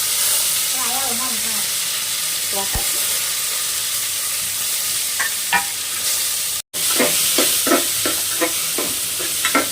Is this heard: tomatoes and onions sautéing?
yes